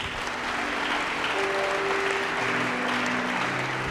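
Congregation at a church gathering applauding, steady dense clapping with faint voices and a sustained tone underneath, moderately loud and continuous.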